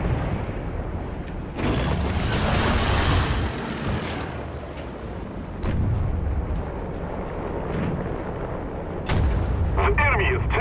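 Tank cannon fire in War Thunder lands as heavy booming blasts, a few sharp shots spaced several seconds apart with rumbling decay, over a constant background of battle noise.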